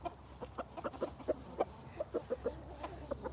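Chickens cluck steadily at close range in a Georgia yard, a long run of short, soft clucks with a fairly regular rhythm over a low background hum.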